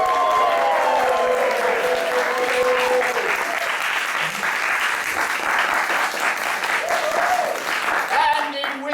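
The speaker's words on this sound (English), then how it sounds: "honoring him with a completely unwarranted yet excessively raucous round of applause" Raucous applause from a theatre audience at an improvised Charles Dickens comedy show, loud sustained clapping with whoops and cheers mixed in, continuing for around nine seconds without a break.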